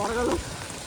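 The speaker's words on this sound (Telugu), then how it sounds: "పడగల వాన" Heavy rain mixed with hail pours down outdoors on a hillside road, a dense close wash of patter in one brief burst.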